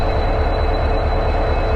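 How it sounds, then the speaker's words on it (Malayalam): An old diesel locomotive on a service to Rameswaram pulls out of the station, giving a loud, steady, close rumble that holds evenly through a brief moment. "6:50 തന്നെ ട്രെയിൻ പുറപ്പെട്ടു, കണ്ടോ."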